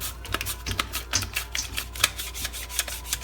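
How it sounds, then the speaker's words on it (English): Potatoes for dauphinoise are cut into thin slices in a quick, even run of crisp scraping strokes, close and fairly loud, with no talking. "now next up we have the slicing part"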